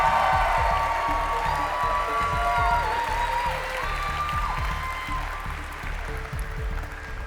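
Sustained audience applause with some cheering at a cosplay contest, loud and steady, while music with a thumping beat plays underneath and gradually fades a little.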